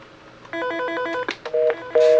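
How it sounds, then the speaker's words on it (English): A Norstar office phone on ringtone 3 rings with a warbling electronic tone in two quick bursts, then a few clicks and a steady beep tone, loud and close. "This is ringtone 3 double ring."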